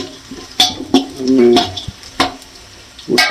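Onions fry in a pot for chicken biryani, a soft sizzle broken by sharp clanks and scrapes of a spoon stirring against the metal, loud and close.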